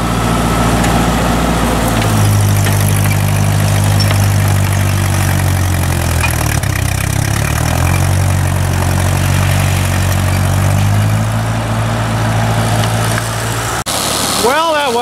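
Ford 2N tractor engine idling outdoors on plow day, a loud, steady low chugging hum that rises and falls slightly in pitch for about fourteen seconds before cutting off near the end.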